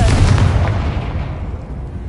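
The Confringo fire-blast spell in the video game Hogwarts Legacy erupts as one loud, booming explosion that rolls off and fades over about two seconds.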